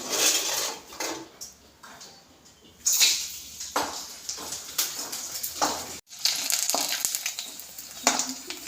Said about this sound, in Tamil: இப்படி பொரியுது பாருங்க